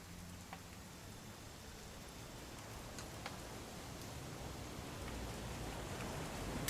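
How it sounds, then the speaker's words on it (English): Steady rain patters softly in the video game What Remains of Edith Finch, a fine hiss with occasional louder drops, growing slightly heavier toward the end. "It's gonna rain the whole weekend, isn't it?"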